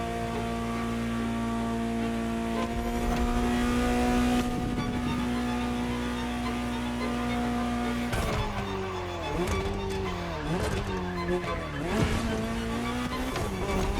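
A Ferrari GTO, the Gran Turismo Omologato derived from the 308 GTS, driven in The Crew Motorfest: a steady, close engine drone holds a high note, then revs rise and fall sharply through gear changes, with no talking.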